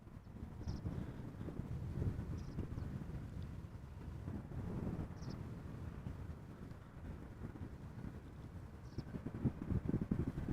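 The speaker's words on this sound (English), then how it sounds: "the wind is picking up on occasion" Wind at Amsterdam Schiphol Airport buffeting the microphone in continuous low rumbling gusts, with the steady roar swelling and easing throughout.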